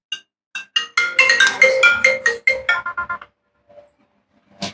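A mobile phone ringtone plays a loud, bright melody of quick, clipped notes for about three seconds. After a short silence, one more brief chirp follows.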